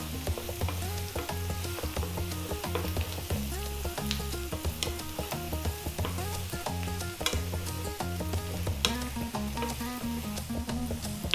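Fish stir-fried with garlic and ginger in a hot pan over high heat, with steady sizzling and frying plus repeated rhythmic scraping and stirring strokes throughout, close and fairly loud, with no talking.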